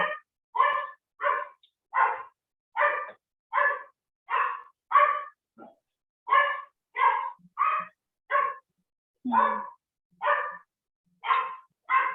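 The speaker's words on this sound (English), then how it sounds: "that's my dog in the background" A dog barks in a steady series of sharp, evenly spaced barks, about a dozen and a half in all, heard alone in a quiet indoor room.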